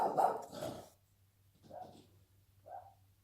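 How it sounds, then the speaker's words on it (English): A pet dog barks indoors at a moderate distance: one cluster of barks, then two quieter single barks spaced about a second apart, over a low steady hum. "that's my dog barking again"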